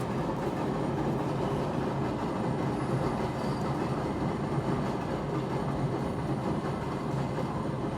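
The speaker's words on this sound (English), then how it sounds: "let the train go by." Train rumbling past nearby, a loud steady roar of wheels on rails with faint clacking and squeal, continuous for several seconds without speech.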